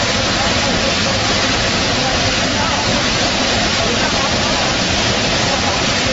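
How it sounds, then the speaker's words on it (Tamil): The flooded Hogenakkal waterfall on the Tamil Nadu border roars as one loud, unbroken wash of rushing water, steady from start to finish. "தமிழக எல்லையான ஒகேனக்கல் நீர்வீழ்ச்சியில் வெள்ளப்பெருக்கு"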